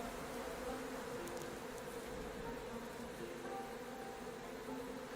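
Honeybees crawling over worker-size brood comb in a hive give a steady, dense buzzing hum that stays even and close throughout, with no talking.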